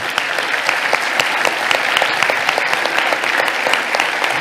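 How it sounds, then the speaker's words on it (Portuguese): A church congregation at a communion and farewell service applauds, with sustained, even clapping from many people close around. "aplauda o Senhor pela vida deles"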